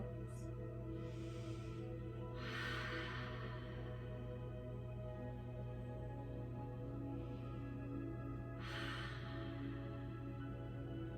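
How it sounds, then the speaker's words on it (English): Slow, deep breathing during a gentle yoga session in bed: a few soft, airy breaths spaced far apart, faint over a low, steady hum. "Take deep breaths."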